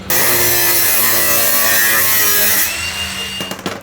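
A power grinder cutting out a stripped screw in woodwork for a van build, a loud, high whining grind that holds steady for a few seconds, then drops off and winds down with a few knocks.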